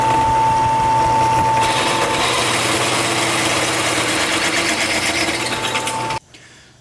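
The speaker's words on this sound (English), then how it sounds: "I'm going to just start spinning this around and get these all drilled out." Power drill boring out the lug studs on a Jeep Cherokee Chief (full-size) wheel hub, a loud steady whine running continuously for about six seconds before cutting off.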